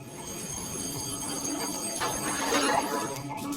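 A fire alarm ringing in a Japanese high school drama, a continuous electric bell-like ringing that fills the scene steadily throughout.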